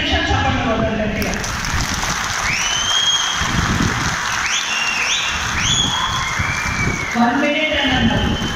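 Steady crowd clapping at a political rally in Telangana, continuous and moderately loud throughout, with a voice and other voices talking over it.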